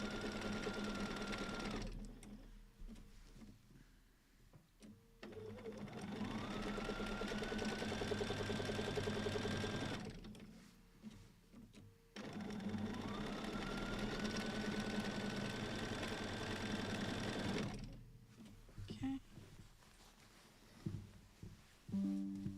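A sewing machine runs for free motion quilting, humming loudly in two long bursts with a steady mechanical drone, separated by short pauses and fading to quieter stop-start stitching at the end.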